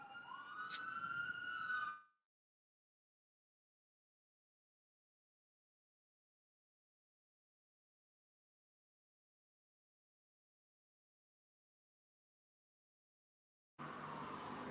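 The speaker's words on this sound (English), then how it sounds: "here come these damn sirens" A siren wails briefly, then the sound cuts out to long silence before resuming near the end.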